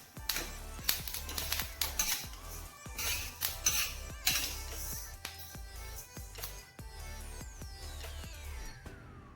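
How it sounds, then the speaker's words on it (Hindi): Roasted flaxseed being tipped from a kadhai into a vessel, with a clatter of metal scraping and clinking alongside a steady pouring rattle of small seeds. "इसको हम किसी बर्तन में ट्रांसफ़र कर लेते हैं"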